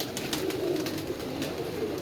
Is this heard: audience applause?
no